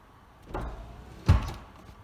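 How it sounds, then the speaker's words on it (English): The door of a 1997 TVR Cerbera clicks and then pops open with a soft thud, two short sounds close by in a quiet cabin. "And the door pops open as normal."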